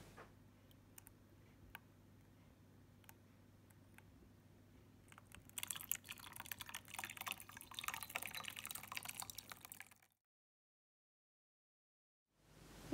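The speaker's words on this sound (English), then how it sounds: "we're going to take our hot water and just start pouring it over" Hot water poured over a waxed apple into a cup: a faint steady trickle with sparse drips, swelling into a louder, denser splashing stream before stopping abruptly into silence.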